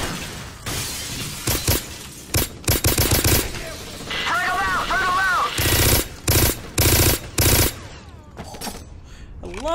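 Rapid gunfire bursts from a gun in the video game Black, several loud broadband volleys separated by short gaps, with a player's voice talking in between.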